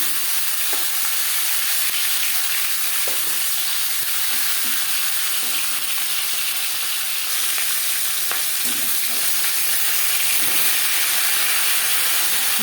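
Marinated katla fish head frying in hot refined oil in a pan, a steady close sizzle and hiss throughout with small pops and crackles, no talking.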